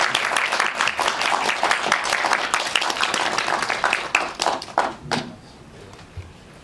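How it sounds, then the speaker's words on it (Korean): Audience applause at a film screening Q&A during the 23rd Busan International Film Festival, a dense wash of clapping from a full house that thins into scattered claps and fades out near the end. "박수로 환영해 주시기 바랍니다."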